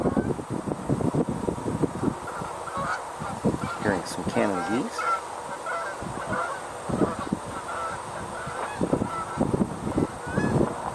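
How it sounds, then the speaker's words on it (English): Canada geese honk repeatedly outdoors at a wildlife viewing site, a run of loud, irregular calls with some overlapping, set against light wind noise. "Hearing some Canada geese."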